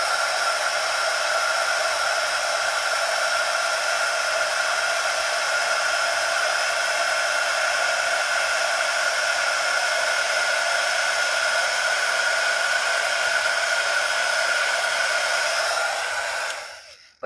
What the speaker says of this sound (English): I'm just throwing my heat gun on the floor. There you go. So we will heat that